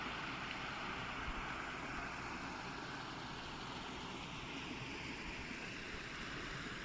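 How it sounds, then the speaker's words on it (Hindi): Steady, broadband rush of water flowing through an outdoor drain nearby, continuous and unbroken throughout; no voices. "पानी का हल्का सा शोर आ रहा है यहाँ से"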